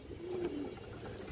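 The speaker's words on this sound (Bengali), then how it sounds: "এই দেখেন একদম রানিং কবুতর" A racing pigeon gives a soft, low cooing call, faint and brief, against quiet background noise.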